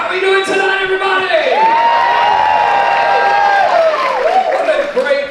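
A cruise ship theater audience at an evening show cheers and whoops loudly in a sustained roar, with shouts and a sung or held voice cutting through the crowd noise.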